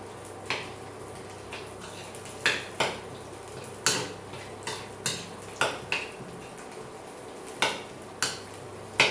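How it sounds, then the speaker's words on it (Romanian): A spoon mixes a fish salad dressed in a mayonnaise-style sauce inside a bowl, with a regular series of light clinks and scrapes against the bowl, close by and with no talking. "Punem peste salată. Amestecăm."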